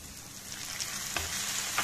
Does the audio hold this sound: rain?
no